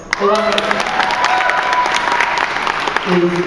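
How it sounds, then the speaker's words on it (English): A podcast audience gives a round of applause for the guests, dense steady clapping throughout with a voice speaking over the start and end. "I'm going to do one last round of applause for our guests"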